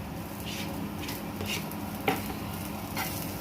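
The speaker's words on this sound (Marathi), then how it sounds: "हे पण थोडंसं परतून घेऊया" Grated coconut and onion are sautéed in a pan with a soft, continuous sizzle, while a spatula scrapes and stirs in a few gentle strokes close by.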